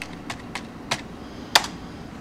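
A computer keyboard is tapped in sparse single keystrokes, five crisp clicks spaced irregularly over a couple of seconds, close and fairly quiet against a faint background hum.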